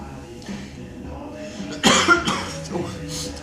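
During a Pilates class, a person lets out a few sharp coughs in the middle of the clip, standing out over a quieter background.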